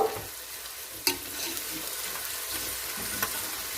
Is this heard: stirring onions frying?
yes